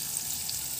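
Onion sizzling in hot oil with fried red chilli as a base for mixed arhar and urad dal, a brief, steady, moderately quiet crackle with no voices.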